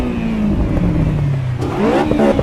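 A Honda S2000 engine in the racing game Assetto Corsa EVO revs loudly and close. The pitch sags slowly, then climbs sharply again as the car pulls hard with the throttle open.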